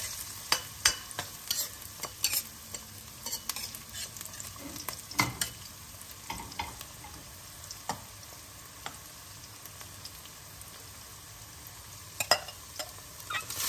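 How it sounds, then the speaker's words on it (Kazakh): Chopped carrots fry in a pan with a steady, soft sizzle, broken by frequent sharp scrapes and clicks of stirring throughout, with no talking. "Енді үстінен туралынған сәбізімізді салып, мұны да аздап қана 3 минуттай, 4 минуттай қуырсақ жеткілікті."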